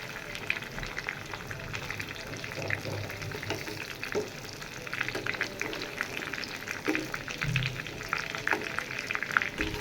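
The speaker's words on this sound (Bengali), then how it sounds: "সুন্দরভাবে দোনো পাশ ভেজে নেব" Chicken pieces fry in oil in a pan while being turned, a lively, crackling sizzle heard up close with scattered spatters and scraping.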